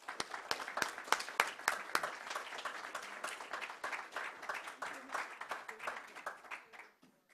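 Library audience applauding to welcome author Benjamin Busch, a moderate crowd of clapping hands with distinct individual claps, steady for several seconds and then tapering off as a voice begins.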